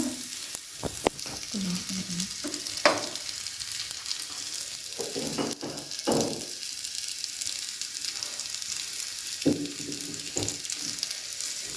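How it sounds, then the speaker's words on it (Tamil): Marinated tofu frying on a hot oiled griddle gives a steady broadband sizzle, with a few louder bursts and scraping stirs over it and no voices. "தோசைக்கல்லில் கொஞ்சம் எண்ணெய் ஊற்றி இதை அப்படியே நம்ம ஊற வச்சதை போடுறோம்"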